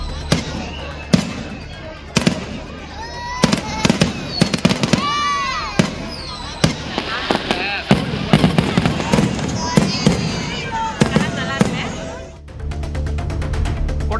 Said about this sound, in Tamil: சுமார் 1 மணி நேரம் இடைவிடாது கண்கவர் வான வேடிக்கை நிகழ்த்தப்பட்டது.